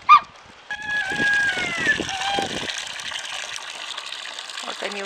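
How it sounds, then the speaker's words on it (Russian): Clean water splashes and gushes as it is poured out for a flock of geese in a village yard, with a few goose honks heard near the start. "Я вам сейчас воды чистой налью."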